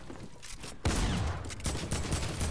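Rapid bursts of video game gunfire crackle loudly and densely after a quieter opening, continuing in clustered volleys to the end with no voices over them.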